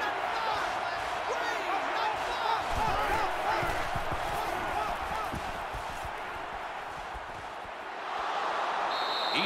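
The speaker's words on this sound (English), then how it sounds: "the crowd is always into it here." Stadium crowd in an NCAA Football video game, Iowa at Ohio State, a constant broad roar of cheering fans filling the whole stretch, dipping briefly before swelling again near the end.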